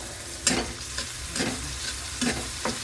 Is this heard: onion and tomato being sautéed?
yes